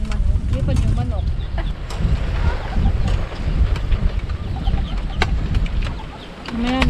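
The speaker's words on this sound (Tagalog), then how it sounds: "Naglipad yung manok." Free-range farmyard chicken clucking amid a busy rural outdoor scene, with short squawks and some wing-flapping over steady background noise and wind; talk is heard in the background.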